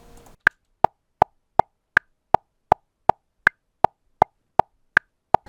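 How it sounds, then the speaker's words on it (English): A metronome click track generated in Reaper, a steady run of about fifteen crisp, evenly spaced clicks at a moderate tempo, clean and alone with no other sound between the beats. "You go insert and then click source, and then that'll add a click source to any track."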